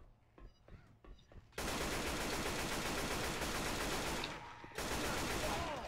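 Sustained automatic gunfire from Left 4 Dead 2 roars for several seconds, breaks briefly, then resumes. Sparse clicks come before it, and the firing is loud and continuous.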